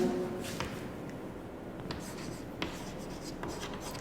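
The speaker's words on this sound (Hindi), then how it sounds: "चलो मैं लिख देता हूं परिभाषा।" Handwriting a physics definition during a Hindi class lesson: steady scratching of pen or chalk strokes with soft rubbing and small shuffles, continuous and moderately close, no talking.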